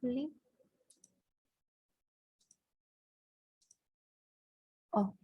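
Computer mouse clicking with the auto-select tool in Photoshop, a few faint, isolated sharp clicks spaced seconds apart, between brief bits of speech at the start and end.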